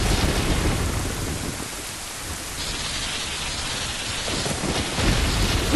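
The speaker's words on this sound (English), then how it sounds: "It's turned into a dark and stormy night." Heavy rain with thunder in a stormy night scene from Zelda: Ocarina of Time, a constant loud wash of rainfall with deep low rumbling that swells near the start and again toward the end, with no voices.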